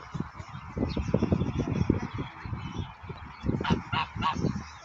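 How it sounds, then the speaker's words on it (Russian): Several geese in an ornithological park honk loudly and close by in repeated overlapping calls, with a rough bustle of movement beneath them and a sharper burst of honks near the end. "Это все-таки, наверное, гуси."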